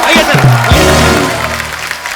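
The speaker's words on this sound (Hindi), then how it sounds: "एक बार रेमो सर, जैकी और टाइगर के लिए जोरदार तालियां" A studio audience at the comedy talk show The Kapil Sharma Show applauds loudly and steadily for the arriving guests, with a brief musical tone at the start.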